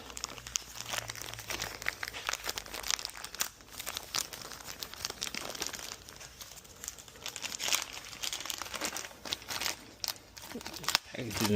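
Packaging around new exhaust parts and gaskets for an HSV Clubsport being handled and unwrapped, giving continuous close crinkling and crumpling with occasional tearing rustles, fairly quiet and steady.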